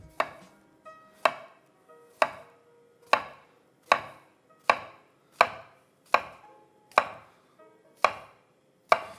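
A knife slicing portobello mushroom tops into strips on a board, about a dozen crisp, evenly spaced cuts, each a sharp close tap with a short decay, in otherwise quiet surroundings.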